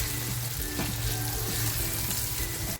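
Chopped onion and tomato frying with salt in a pan for a dried surmai fish chutney, a loud, continuous close sizzle with light stirring scrapes and a steady hiss throughout, no talking.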